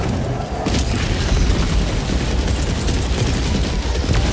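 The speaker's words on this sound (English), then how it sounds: "Firing orbital barrage. Clear the area." Orbital barrage strikes in the video game Helldivers 2 rumble as a dense, continuous series of booming explosions with sharp bursts layered over a heavy low roar, sustained and loud throughout.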